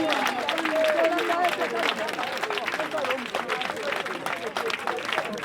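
An audience claps loudly for actress Naomi Kipolo at a ceremony, a dense, continuous round of applause mixed with crowd murmur that fills the full stretch without letting up.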